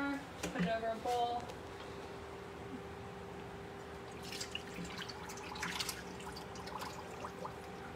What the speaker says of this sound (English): Okay, so now we are going to strain out the fig leaves.